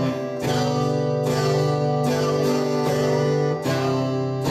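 Close, ringing acoustic guitar chords strummed in a quarter-note pattern with a pair of quicker eighth-note strokes falling on the third beat, sustained and even without any talking.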